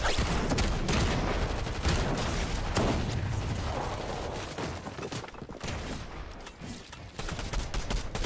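Rapid, dense gunfire from a lock-on pistol in Fortnite, a continuous crackling volley of shots that stays loud throughout and thins slightly toward the end, with no voices over it.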